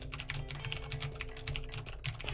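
Typing on a clicky computer keyboard, rapid irregular keystrokes at moderate volume over a low steady hum.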